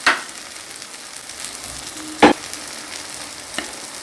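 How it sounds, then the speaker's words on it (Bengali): Chira pulao with fried peanuts is stirred in a pan, giving a soft, steady sizzle with a few sharp scrapes and knocks of the spoon against the pan, close and fairly quiet. "এবার আমি নেড়ে দেবো ভালো করে, সুন্দর করে।"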